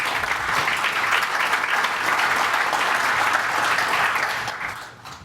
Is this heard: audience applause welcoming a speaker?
yes